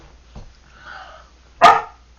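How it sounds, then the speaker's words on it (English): A little dog gives one short bark up close, after a faint earlier yip and a soft whine, in a quiet indoor room. "Little dog."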